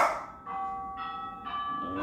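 Doorbell at a home, a clear chime of three to four ringing tones stepping in sequence, moderately loud and alone.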